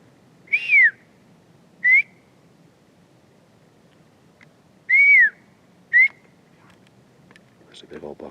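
Four short, clear whistled notes, two rising-then-falling and two brief chirps, spaced apart over a quiet outdoor background with faint noise at the end.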